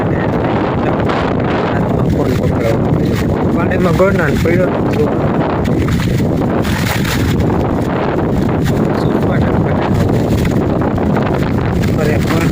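Heavy monsoon rain and strong gusting wind in Kathiyawad, Gujarat, make a loud continuous roar that buffets the microphone throughout, while someone speaks over the din.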